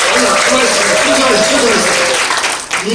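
An audience at a women leaders' policy symposium claps loudly and continuously, a dense close wash of hands with a voice faintly audible underneath, tapering briefly near the end.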